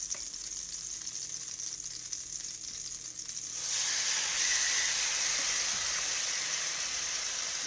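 Beef hits a hot pan and sizzles for beef and broccoli, a steady frying hiss that jumps sharply louder partway through as more meat goes in, then holds a dense, close crackle.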